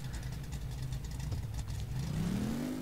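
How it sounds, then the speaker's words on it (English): Car engine from the video game My Garage idling in first gear, a steady low drone that rises slightly in pitch near the end, close and continuous with no talk. "I'm just idling in first gear right now."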